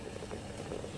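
Water bubbling in a steamer set up for cooking chicken momos wrapped in cabbage leaves, a steady dense simmering roar that holds evenly and close with no voices.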